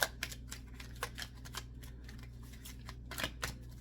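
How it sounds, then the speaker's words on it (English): Tarot cards are shuffled by hand, giving a quick run of soft riffling, slapping bursts over a low background hum. "When I'm shuffling your cards, it seems like they're a little jumbled."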